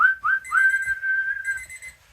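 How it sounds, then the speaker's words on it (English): A person whistles through the mouth, standing in for a referee's full-time whistle at a football match: two short rising chirps, then a long sustained blast and a final shorter one, clear and close with no talk. "Referee blows his whistle"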